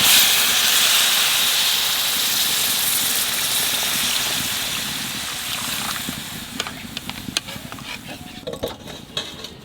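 Water poured into a hot pan of frying country chicken curry sets off a loud, broad steamy sizzle that slowly fades, then gives way to scraping and clinking as a utensil stirs the pot.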